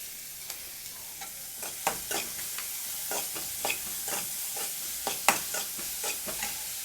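Onions sautéing for a potato dish: a steady frying sizzle with repeated spatula scrapes and taps against the pan, close and moderately loud, with no voices.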